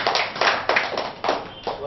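Audience clapping hands in several quick bursts at a Tamil meditation session, fairly close, with people talking alongside.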